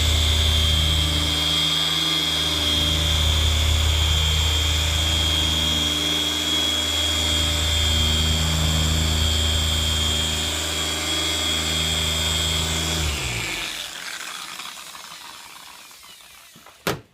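A G220 polishing machine runs with a loud, steady mechanical whine and hum, then winds down and cuts out, followed by near silence and a brief knock.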